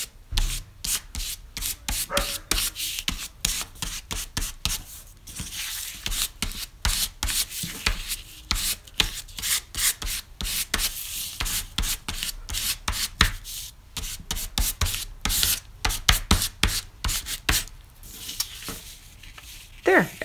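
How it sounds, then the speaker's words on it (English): A plastic credit card scrapes Golden fluid acrylic paint across a surface in a steady run of close, rasping strokes that go on without pause. "a fun base layer for some other techniques with the golden fluid acrylics and the credit card scraping"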